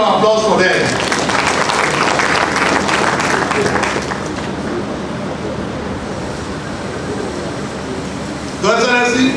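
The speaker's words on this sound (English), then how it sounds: "A round of applause for them." Convocation ceremony audience applauding in a large hall, a broad roar of clapping that fades to a lower sustained wash, with voices cutting in near the start and again at the end.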